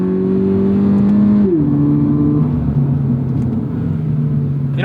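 A Toyota GR86 with an aftermarket exhaust accelerating through the gears, heard from inside the car: a loud, steady engine drone that rises in pitch and drops with each upshift.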